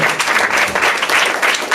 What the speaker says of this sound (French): Est-ce qu'on pourrait l'applaudir s'il vous plaît?